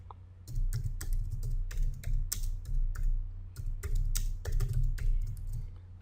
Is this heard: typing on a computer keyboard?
yes